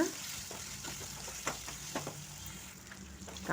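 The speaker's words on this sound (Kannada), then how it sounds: "ಎಣ್ಣೆ ಕಡಲೆಬೇಳೆ ಸಾಸಿವೆ ಈರುಳ್ಳಿ ನೀಟಾಗಿ ಗೋಳಿಸ್ಕೊಳ್ಳೋಣ" Chana dal, mustard seeds and onion frying in hot oil for a village-style curry, a soft continuous sizzle with a few stirring scrapes and pops, fairly quiet and without speech.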